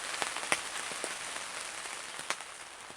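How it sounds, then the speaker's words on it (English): Rain falls steadily, making a soft, faint patter over a plastic garbage bag wrapped around a camera lens, with a few sharper drops hitting close by. "It's still raining."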